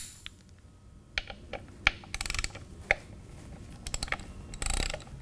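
A socket wrench with a T27 Torx bit loosening primary cover bolts on a Harley-Davidson motorcycle, giving close, crisp bursts of ratcheting clicks in short irregular runs with pauses between.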